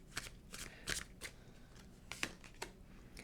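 Tarot cards shuffled and drawn by hand, a series of crisp riffling, slapping card sounds in short bursts, close and fairly quiet, with no talking.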